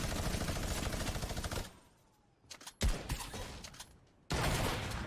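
Gunfire in a Fortnite match: dense, loud sustained shooting at the start, a quieter stretch with a couple of sharp shots, then another heavy burst at the end, with no voices.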